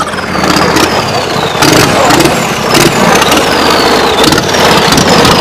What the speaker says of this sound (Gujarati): ટ્રેક્ટર હાકે છે ને